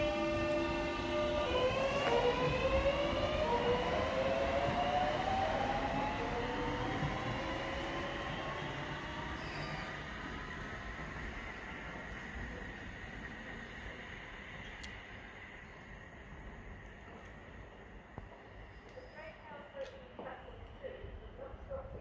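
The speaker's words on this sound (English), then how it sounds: "departing now is the 1403 Southeastern service to London Cannon Street" A Southeastern train departs Grove Park station, its rising electric motor whine and rail rumble loud at first, then fading steadily into the distance, with a voice speaking early on.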